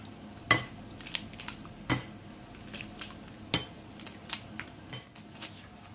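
Six eggs cracked one after another into a bowl of 400 grams of flour, sharp separate taps and cracks spaced across a few seconds with a quiet room behind them.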